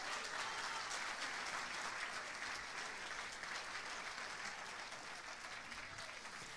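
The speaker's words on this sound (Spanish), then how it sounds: "Vamos a aplaudirle al Señor" A church congregation applauding in praise, a steady, fairly distant wash of many hands clapping that holds evenly throughout without talk.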